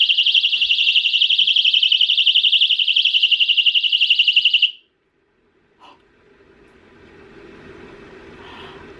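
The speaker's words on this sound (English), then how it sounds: "so this is a rape alarm" A piercing high-pitched personal alarm shrieks continuously for about five seconds, then cuts off, leaving faint rustling and handling noise.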